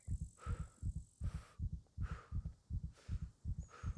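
Heartbeat in the survival video game SCUM thumps steadily and close, in regular double beats about twice per second, over faint higher in-game ambience.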